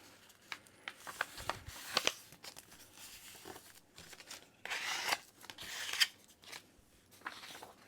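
Paper signatures folded by hand for a junk journal, with a run of crisp crinkles, rubs and sharp creasing swipes in irregular bursts, close and fairly quiet, with no talking.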